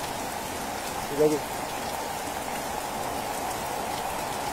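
Heavy rain falls on flooded farm fields in Ludhiana, a steady dense hiss from start to finish, with someone briefly speaking a few words early on.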